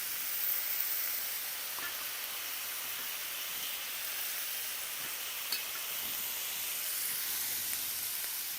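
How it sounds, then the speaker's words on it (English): Peas and Napa cabbage sizzle in a hot pan with a steady, dense hiss of frying and steam that holds at an even level throughout, with faint clinks and no talking. "Now that my peas are heating up, I'm gonna go add some of my Napa cabbage."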